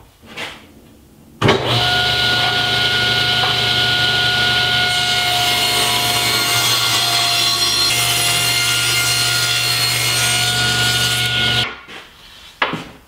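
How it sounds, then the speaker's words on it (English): A table saw rips wood into half-inch strips for frame molding, a loud, steady whine with the blade biting continuously through the wood for about ten seconds, then winding down. "set my table saw to 1/2 inch and rip a bunch of strips"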